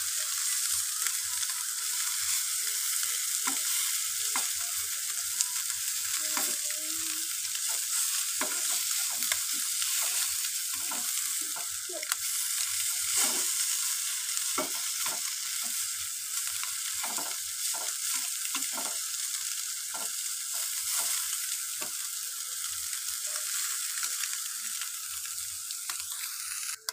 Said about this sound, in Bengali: মাছ কটা ভাজা হয়ে গেছে, এবারে তুলে নেব।